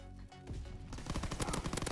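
Rapid shotgun and automatic gunfire in a multiplayer shooter video game, a dense burst of loud repeated shots that builds after a brief quieter opening.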